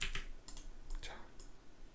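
Computer keyboard keys pressed while working in Blender, several light, close taps spaced irregularly over a soft background.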